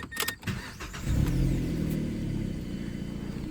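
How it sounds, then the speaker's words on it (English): A 2010 Mazda 3 with a 2.0-litre engine and manual gearbox cranks and starts, settling into a steady, fairly close idle that runs alone after a short burst of cranking at the start. The car's power steering pump has gone bad. "Let's go ahead and start her up."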